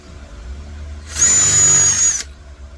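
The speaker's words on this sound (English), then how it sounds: "I might have to countersink it a little bit bigger" A power drill countersinks a hole in one short burst, a whining high-pitched spin lasting about a second, close by, with quiet room hum before and after.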